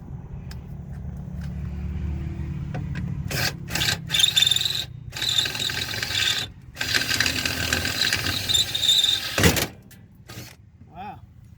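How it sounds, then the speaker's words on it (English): A drill biting out a rivet during a roadside repair, a close grinding, rasping whine in several sustained bursts with short breaks, ending in an abrupt stop. "I'm gonna drill out this here rivet right here and put a screw in there"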